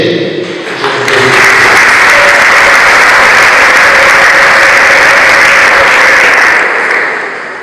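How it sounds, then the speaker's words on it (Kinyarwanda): Wedding guests applaud the bride and groom with loud, sustained clapping from a large crowd, swelling in quickly and fading near the end, with voices mixed into the applause. "ndagira ngo mfashe abageni tubahe amashyi menshi twishimire"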